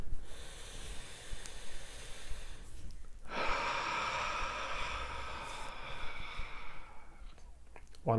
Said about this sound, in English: and taking a deep breath together.